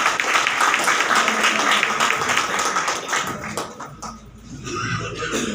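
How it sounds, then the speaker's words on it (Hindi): Audience applause welcoming the executive committee at an advocates' association gathering in Agra, a dense, steady patter of many hands clapping that thins out toward the end. "तालियों के साथ स्वागत है।"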